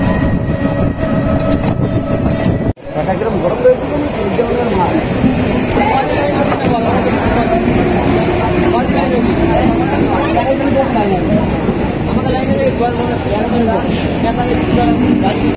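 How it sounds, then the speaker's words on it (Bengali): A train pulls into a station with a loud, steady rumble and rattling wheels close by, the roar continuing throughout with a brief dip early on; people talk and murmur faintly beneath it. "ট্রেনের টাইম হয়ে গেছে আর পেলে হয় ট্রেনটা।"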